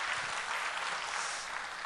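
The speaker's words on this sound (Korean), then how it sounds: "우리 박수로 환영하겠습니다" Church congregation clapping to welcome guests during a Sunday service, a steady dense round of applause throughout, fairly close and even in level.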